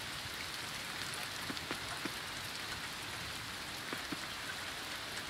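Steady rain falls in the farming video game Coral Island, a soft, even hiss with faint scattered drops and no voices.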